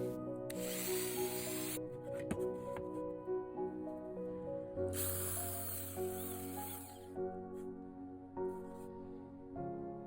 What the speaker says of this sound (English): Now drill half holes from both sides.